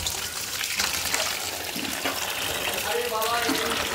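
Running water, likely a tap, flows steadily while prawns are washed in a home kitchen, a continuous splashing wash at close range with a voice talking over it.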